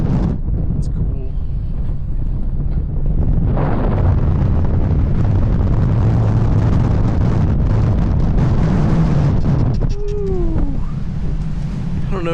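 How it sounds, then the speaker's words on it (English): Strong wind roars and buffets against the microphone of a moving motorcycle on an Arkansas ride, loud and continuous with gusty surges, while a voice speaks over it briefly. "that is the wind behind us, and this thing is moving"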